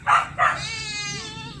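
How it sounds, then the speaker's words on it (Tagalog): Two short nearby bleats from a goat, then a longer wavering bleat that trails off, with a low background hum. "Kambing."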